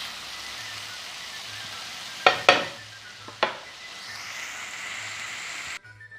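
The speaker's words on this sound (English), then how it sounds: "Fry them up with the onions." Onions and capers sizzle and hiss steadily in a frying pan, punctuated by a few sharp scraping clatters of stirring, with no talking.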